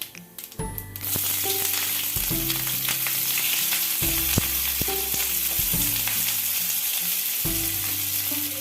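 Chopped onion dropped into hot mustard oil with nigella seeds, a sudden burst of loud sizzling after a second that settles into a steady crackling fry with occasional stirring clinks.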